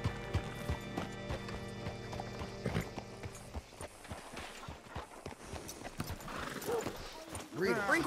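Horse hooves clip-clop in the Red Dead Redemption 2 video game, a steady rhythmic trot of close, distinct hoofbeats that slows and scatters, with a horse snorting or whinnying near the end.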